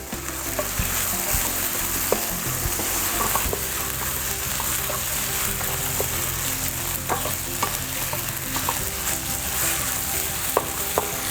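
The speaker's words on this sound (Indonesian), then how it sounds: "Kita masak dulu sampai daging ayamnya matang atau dia berubah menjadi warnanya keputihan dan dagingnya padat" Chicken meat stir-fried and stirred in a pan for nasi mawut, a steady close sizzle with scattered scrapes and clicks of the utensil throughout, no voices.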